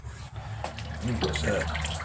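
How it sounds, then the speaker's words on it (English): Old coolant drains from a Camaro engine during a water pump replacement on a four-stud Camaro build, a steady trickle and splash of liquid into a container, close by, over low background noise. "Draining out the old coolant now."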